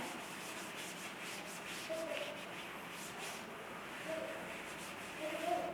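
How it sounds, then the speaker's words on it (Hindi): A duster rubs writing off a classroom board during a chemistry lesson, making soft, steady scrubbing strokes that continue without a break, with no speech. "इसको रब कर देती हूँ मैं"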